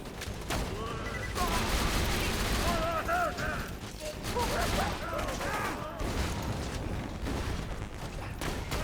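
Enemy gunfire in Borderlands 2 pours onto a player standing in the open, a dense, continuous barrage of rapid shots and impacts mixed with game effects, loud and sustained throughout.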